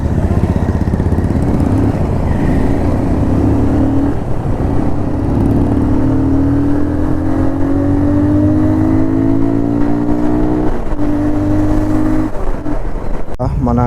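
Motorbikes, including a 220 cc machine, roll onto a dirt track during a group ride, engines droning and revving loudly up close with rising and falling pitch, while a voice talks over them throughout.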